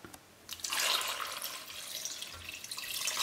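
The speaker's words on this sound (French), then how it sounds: "On va couvrir avec un grand volume d'eau froide" Cold water pours from a tap into a pot holding rabbit saddle pieces and rosemary. After a few faint clicks, a steady splashing stream starts and keeps running at moderate volume, with no talking.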